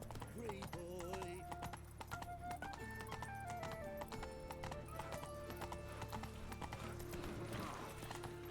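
A horse gallops through a city in The Witcher 3, its hooves clip-clopping in a brisk, steady rhythm with occasional whinnies, mixed with in-game chatter, music and ambient street noise.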